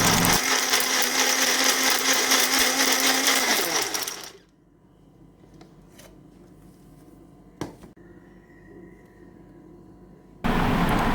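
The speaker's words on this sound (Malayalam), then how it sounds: "നമുക്കിനി ഇത് മിക്സിയുടെ ജാറിലേക്ക് ഇട്ട് കൊടുക്കാം ഇത് നമ്മൾ ജ്യൂസൊക്കെ അടിക്കാൻ വേണ്ടിയിട്ട് ഉപയോഗിക്കണ മുന്തിരിയാണ് കേട്ടോ ഇനി നമുക്കിതിനെ ഒന്ന് നന്നായിട്ടൊന്ന് അടിച്ചെടുക്കാം" A mixer grinder blends grapes for juice, running loud and steady with a high whine for about four seconds before stopping; a quiet pause with faint clicks follows, then the motor roars back on at the very end.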